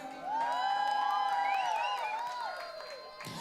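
A crowd at a drum festival's performing arts national finals cheers and whoops for the performers, a sustained swell of many voices with a little clapping, fairly distant and moderately quiet.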